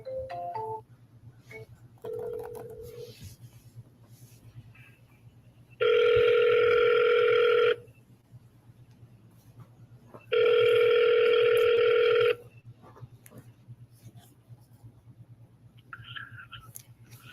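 Telephone dialing with short tone bursts, followed by two long, loud ringback tones separated by a pause on an office phone call, over a steady low hum with no talking.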